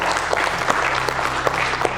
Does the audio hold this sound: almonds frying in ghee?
no